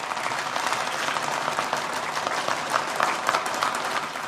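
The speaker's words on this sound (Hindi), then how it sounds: "तालियों का जोर और शोर कम ना होने दीजिए।" Sustained audience clapping at an annual function and prize distribution ceremony in Mumbai, a brisk, fairly close crowd applause that swells slightly toward the end.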